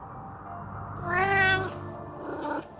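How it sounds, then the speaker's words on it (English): A house cat gives a single clear, drawn-out meow, close and fairly loud, followed by a brief softer sound against quiet background noise. "That's my cat Freya."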